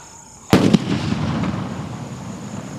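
A Diwali sky shot firecracker bursts with one sudden loud boom and a quick crackle, followed by a rumbling echo that fades slowly outdoors.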